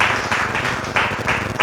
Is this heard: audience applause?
yes